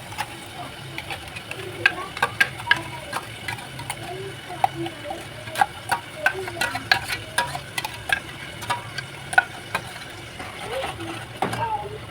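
Ground masala frying and being stirred in a pan for Maharashtrian sukka chicken: a steady sizzle with repeated scraping and clinking of a spoon against the pan, close and moderately loud, with faint background voices.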